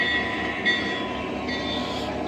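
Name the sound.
O scale model train running on outdoor layout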